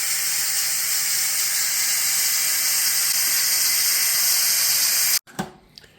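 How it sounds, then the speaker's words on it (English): Pressure cooker steam release after cooking a South African Durban curry: a loud, steady, roaring hiss that cuts off abruptly near the end, followed by faint clinks. "Pressure released."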